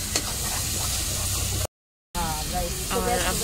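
Masala paste with green chillies frying in a pan on a home stove, a loud continuous sizzle with stirring scrapes, briefly cut by a moment of silence, with a voice talking over it.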